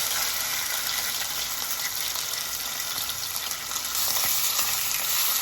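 Jamaican oxtail pieces brown in a single layer in a little oil in a pot, giving off a steady, loud, close sizzle that carries on without a break and with no one talking.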